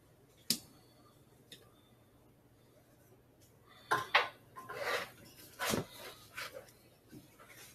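Naan dough mixed in a bowl after extra flour is added, sparse clinks and scraping knocks of a utensil against the bowl that grow busier toward the end, close and fairly quiet.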